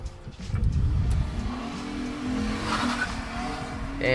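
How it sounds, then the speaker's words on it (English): A car accelerates hard down the strip at a Sacramento car auction, its engine revving loudly with a brief tire squeal, and the roar stays strong and close before it fades slightly as the car pulls away. "That dude just fucking gassed it down the strip."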